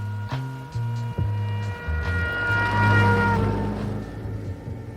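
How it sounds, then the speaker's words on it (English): A car passes carrying a trumpet player holding a steady note, the tone sliding downward in pitch as it goes by, sustained and fairly loud over road noise with no speech. "What you heard there was the famous Doppler effect."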